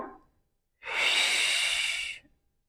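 A single audible inhale during a Pilates exercise, a breathy rush lasting over a second after a brief quiet moment, close and clear.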